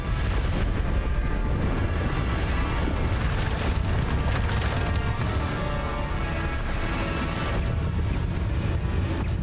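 Bombarda spell blasts in Hogwarts Legacy combat, a dense, continuous wash of booming explosive impacts and rumbling low-end noise sustained throughout at high level, with no clear pauses between hits.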